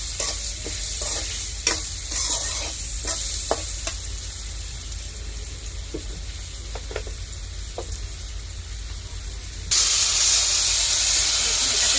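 Hilsa fish with vegetables and turmeric is stirred in a hot pan, a steady sizzle with scraping stirs and a louder hiss of steam near the end; no talking.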